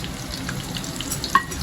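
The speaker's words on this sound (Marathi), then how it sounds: "1 कांदा बारीक चिरून घेतलाय तो आपण यात टाकायचा." Finely chopped onion crackles in hot oil with bay leaves and curry leaves, a steady close sizzle with one sharp clink of a utensil near the end, no one speaking.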